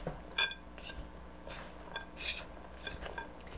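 Spoon clinks and scrapes in a bowl as flour is mixed into fruit for a white fruitcake, several light, fairly close knocks spaced unevenly under a quiet background.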